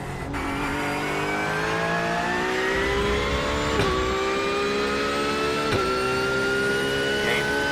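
A GT3 race car engine in the pit lane at Circuit of the Americas in iRacing, a loud, steady drone that climbs slowly in pitch through a long acceleration, with brief clicks of gear shifts.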